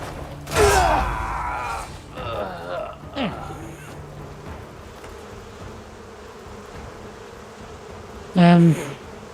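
A swarm of bees buzzes in the video game Crimson Desert, a droning hum beneath loud game effects and shouts, with a sharp creaking burst near the end.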